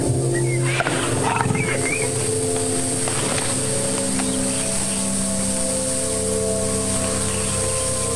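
A lion in the wild growls and roars in a sustained, loud rumble for several seconds, heard close against steady background noise.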